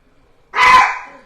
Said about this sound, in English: My dogs decided to bark.